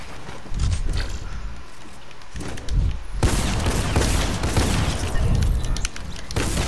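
Rapid bursts of gunfire from a Fortnite match, dense and continuous with heavy booming low end and several louder surges, no talking over it.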